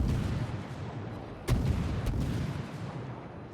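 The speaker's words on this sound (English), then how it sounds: "We're just launching shells at him now." Naval guns on a warship in a video game fire shells: a sharp boom followed by a second, softer report, both fairly close, over a steady low background rumble.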